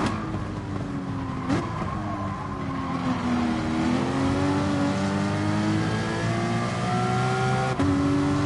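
A Porsche race car engine in the GT Sport racing game revs steadily with a smooth, rising and falling whine, broken by brief shift cuts near the start and end, heard alone without talk.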